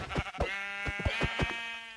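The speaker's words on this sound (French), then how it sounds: "Ah, des moutons." Sheep in the Minecraft video game bleat several times in quick succession, clear and close, with short wavering calls overlapping one another.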